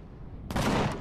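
Sudden burst of gunfire in the space survival game Empyrion - Galactic Survival, erupting halfway through after a quiet stretch, loud and dense like a rapid volley, with no talking over it.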